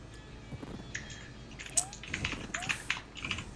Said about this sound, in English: You can hear Wafu typing his horrible, horrible tweets now